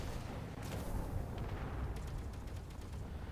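Turret fire blasting a ship in a Space Engineers battle between a Star Wars cruiser and escort ships, a faint, muffled stream of distant gunfire cracks over a low rumbling wash, no voices.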